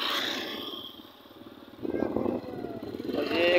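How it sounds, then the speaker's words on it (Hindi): A motorcycle passes on the Indus Highway, its engine rising loudly from about the midpoint and staying close through the end, with traffic hiss in the background. "अभी ये मोटरसाइकिल भी आप देख सकते हैं, शायद ये कोई उस्ताद जा रहा है"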